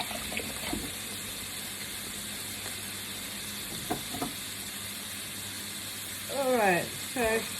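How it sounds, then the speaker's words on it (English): A bowl that held diced bacon gets rinsed under a running kitchen tap: a steady, moderately loud hiss of flowing water with a few faint clinks and a short squeaky burst near the end. "I'll just rinse this bowl because it's had the bacon in it."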